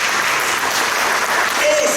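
Church congregation applauding loudly and steadily during a worship service, a dense continuous clatter of many hands filling the room for the whole stretch.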